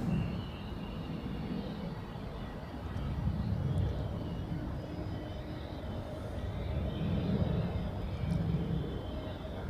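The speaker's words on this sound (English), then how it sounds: "Small Cessna coming in here." A small Cessna aircraft comes in to land at Zurich Airport, a low steady propeller-engine drone that swells and eases, heard from a distance over outdoor airport ambience.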